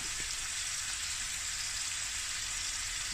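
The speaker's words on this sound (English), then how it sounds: "just let this simmer for a minute" Firecracker kimchi with meatballs and tofu simmering in a pan, giving a steady, soft sizzling hiss that stays even and unbroken throughout, with no voices.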